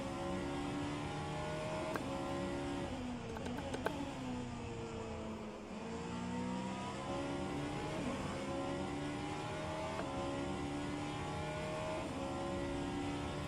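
The BMW V8 hybrid hypercar engine in rFactor 2 drones continuously, its note climbing and dropping as the car accelerates and shifts through gears on track, with no voices.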